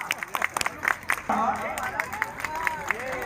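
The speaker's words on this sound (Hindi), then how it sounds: "और अब जोरदार तालियां।" Scattered clapping from a crowd at a gathering, irregular and fairly close, with voices talking over and around it.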